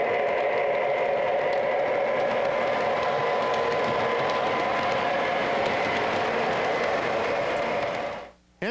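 MTH Railking SD9 model train locomotive running steadily on a layout, a continuous rolling mechanical hum with faint rhythmic clatter throughout, ending with a brief dropout near the end.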